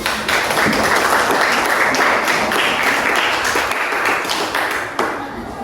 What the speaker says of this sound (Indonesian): Ayo tepuk tangan dulu buat kelas 5